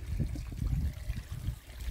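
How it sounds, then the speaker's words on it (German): Pond water from a small low-budget koi garden pond spilling over into an adjacent plant basin, a steady close trickling and splashing flow that continues throughout without a break. "dass das Wasser aus dem Teich überläuft"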